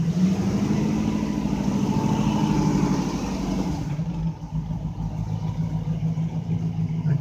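An MG Magnette V8 coupe pulls away in first gear, its engine revving close and loud before easing to a lower, steadier rumble.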